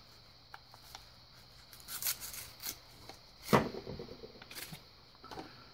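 Scissors snip and crinkly plastic rustles as a padlock's blister package is cut open by hand, a few quiet sharp cuts and crackles scattered among low handling noise, close and soft.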